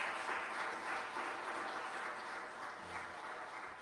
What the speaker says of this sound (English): can we give them the graduating class of 2021 one more round of applause?